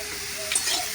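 Chopped banana stem, pre-coated with salt and turmeric, sizzling steadily in a hot pan with faint stirring clicks, close and continuous.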